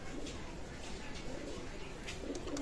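Benaras male pigeon cooing softly and steadily at close range amid a busy, noisy loft with background chatter.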